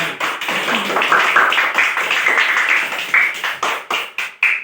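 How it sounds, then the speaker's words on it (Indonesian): Students in a classroom clapping for a classmate, starting as a busy patter of many hands, then thinning into a few loud, spaced claps that fade toward the end. "Tepuk tangan dulu."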